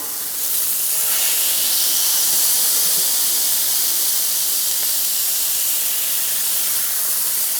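Smash burgers pressed flat on a Weber Slate griddle sizzle in a steady, loud hiss that holds evenly throughout, with no talking.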